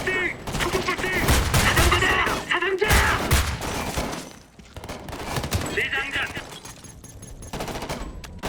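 Gunfire and heavy artillery in the war video game Homefront: The Revolution, with dense, loud bursts of rapid shots and booming blasts mixed with shouting voices throughout.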